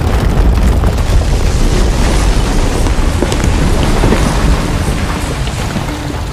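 An explosion during a Vietnam War ambush scene rolls out as a loud, sustained rumbling roar that fills the whole stretch without letting up, with no voices.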